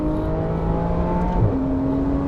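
A GT3 race car engine drones at high revs, a steady, loud tonal whine that holds one pitch and then shifts up to another partway through, with no voices present.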